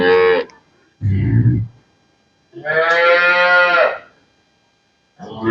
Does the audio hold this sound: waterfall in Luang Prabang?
no